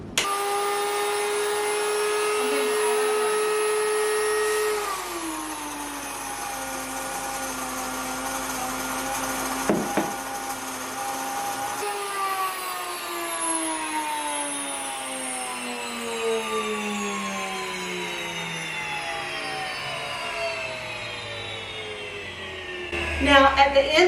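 An electric grain mill runs with a loud, continuous motor whine that drops in pitch once grain goes in, then slides lower as grinding carries on, ending with a brief rattle.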